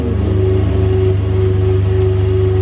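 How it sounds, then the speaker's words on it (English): A 2017 Chevy Colorado pickup with a lift kit idles loudly and steadily right after a cold start, a low, even engine drone with no talking. "Cold start on my 2017 Chevy Colorado, now with a lift kit and wheels and tires"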